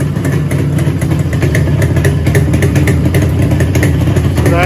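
A motorcycle engine fitted with an Allied lighting coil idles close and loud, a steady, even chugging throb with a rattling clatter that continues unbroken throughout.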